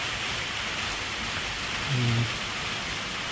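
Steady rain hisses evenly and continuously, a soft constant wash with a brief low hum in the middle.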